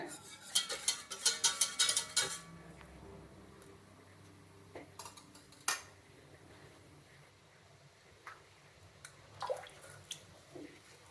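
Badam harira mixture with basmati rice paste is stirred in a pan: a brief flurry of quick scraping clinks at the start, then quiet with a few faint, scattered taps.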